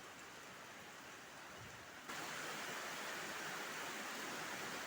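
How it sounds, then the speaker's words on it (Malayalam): Heavy morning rain falls steadily as a dense, even hiss, growing louder partway through and continuing without break, with no voices. "ഇന്ന് രാവിലെ നല്ല മഴയാണ് ഇവിടെ"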